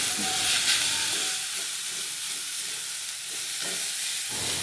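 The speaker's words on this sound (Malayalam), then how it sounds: "നന്നായിട്ടൊന്ന് എല്ലാം കൂടി ഒന്ന് മിക്സ് ചെയ്ത് ഇളക്കി കൊടുക്കാം" Young bean leaves being stir-fried in a pan, a dense close sizzle and hiss with intermittent scraping stirs, loud and steady throughout with no voices.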